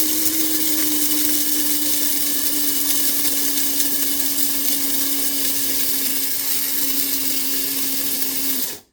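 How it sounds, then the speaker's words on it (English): An electric coffee grinder grinds coffee beans in one loud, steady, high-pitched whir lasting several seconds, then cuts off abruptly. "It's literally just put the beans in, a quick grind."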